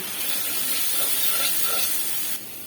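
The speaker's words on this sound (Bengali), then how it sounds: "এই জন্য কিছু পেঁয়াজ মরিচ আগে থেকেই ভেজে নিচ্ছি।" Onions and chilies fry in a hot pan, a loud continuous sizzling hiss up close that drops slightly just before the end.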